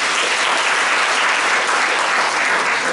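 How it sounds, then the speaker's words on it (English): An audience at a university closing session applauds loudly and steadily for a few seconds, a thick continuous wall of clapping filling the hall. "you may give a clap for me because this is written by me"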